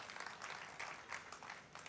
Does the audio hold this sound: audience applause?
yes